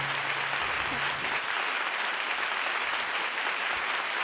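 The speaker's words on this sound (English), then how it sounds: "That's everybody from around the world applauding" Steady, dense applause from an online audience joining an interactive holiday music camp, a continuous even roar of clapping with a brief low hum at the start and no talk over it.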